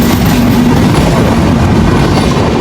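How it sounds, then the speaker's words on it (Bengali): A Khulna to Dhaka train rushes through a small rural station without stopping, with a loud, close, continuous roar of wheels and rattling carriages. "এখন যে ট্রেনটা আপনারা দেখতে পাচ্ছেন এটা হচ্ছে খুলনা থেকে ঢাকা যাচ্ছে"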